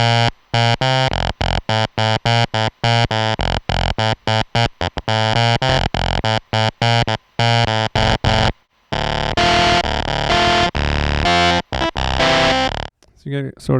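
Behringer DeepMind 12 synthesizer played through its rack amp distortion effect, giving loud, buzzy, guitar-like distorted notes in choppy rhythmic bursts, then a sustained gritty passage after a brief gap.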